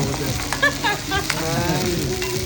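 Balbacua sizzles in a pan while being stirred, a dense crackling fry with scraping stir strokes, and voices chatter faintly in the background.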